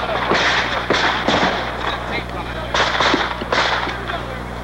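Archival news film of the Stop 5 battle, a violent labor confrontation, with several sharp gunshot cracks in irregular bursts over a noisy, crowded background, partly under a narrator's voice.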